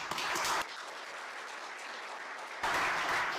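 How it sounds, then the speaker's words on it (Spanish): Applause at a university law forum for the State Attorney General, a broad hiss of many hands clapping that drops back for a couple of seconds and then swells loud again. "para quien pido un fuerte aplauso"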